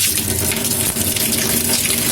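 Running water splashes and swishes steadily nearby, like produce being rinsed under a tap, with no talking.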